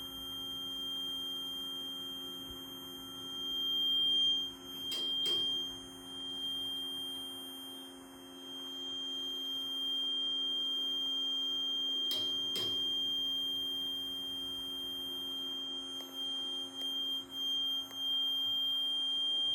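Elevator cab over-temperature alarm buzzer sounding as a continuous steady electronic tone over a mechanical hum, with a few brief clicks and knocks in between and no talking.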